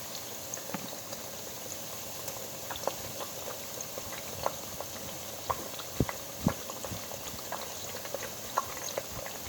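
Tomato paste cooking in a pot of onions for a Nigerian tomato stew, giving a soft, steady bubbling and sizzle with scattered pops and light spatters, fairly quiet and close, with no talking.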